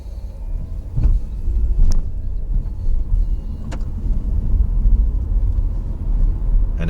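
A 2018 Nissan Leaf electric car rolls up a steep road, a low, steady road rumble with faint motor whine and a few sharp clicks or knocks, with no talk.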